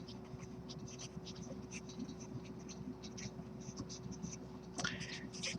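Pen or marker scratching on a writing surface during a math lesson on slant asymptotes, a faint steady scratchy texture under a low hum, with a brighter burst of strokes near the end.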